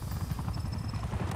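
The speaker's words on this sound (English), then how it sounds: "Goddamn helicopter." A helicopter in the Black Ops 6 video game gives a steady, low, rhythmic rotor chop that runs through the whole moment at moderate loudness, with no speech.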